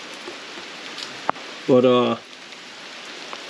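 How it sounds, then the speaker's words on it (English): Steady rain patters in the background, with a short burst of speech partway through. "now it's back on the truck in the rain"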